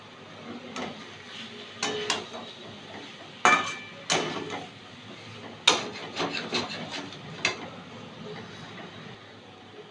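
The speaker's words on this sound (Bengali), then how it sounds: "ঘি আর গরম মশলাটা মিশিয়ে নিলাম।" Ghee and garam masala being stirred into a Bengali banana stem curry (thor ghonto) in a pan. A spoon scrapes and knocks against the pot in scattered clacks over a quiet background.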